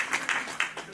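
Audience clapping at a company event for the eXp real estate brokerage, a short burst of scattered, uneven claps from a crowd, moderately loud and heard on its own.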